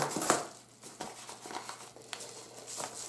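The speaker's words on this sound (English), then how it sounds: "we're cutting it open here" Crinkly rustling and tearing as a bubble-wrap package is cut open up close, quiet and scratchy with irregular crackles and faint pops.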